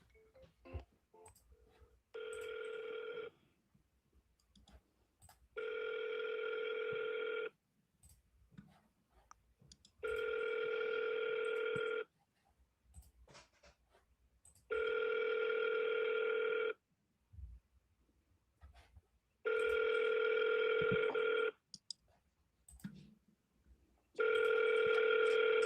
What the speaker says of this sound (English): So we're gonna just try to call and see if they'll answer.